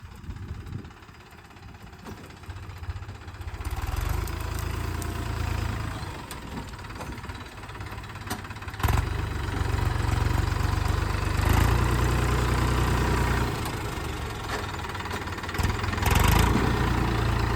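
A Mahindra Yuvo Tech Plus 405 tractor with water-filled wheels rumbles steadily at idle, low and throbbing, with occasional surges and clanks over a continuous drone.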